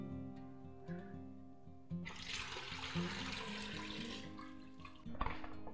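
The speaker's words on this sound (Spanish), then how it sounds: "La vamos a cubrir de agua." Water gushes steadily into a pot holding beef tongue and vegetables, a continuous splashing stream that begins after a quiet moment and stays fairly soft throughout.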